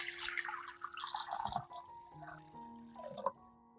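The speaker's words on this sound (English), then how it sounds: "Prepare a basin with water about half full." Water splashing and running into a basin being filled about half full, an uneven close gurgling pour with drips and bubbling that settles toward the end.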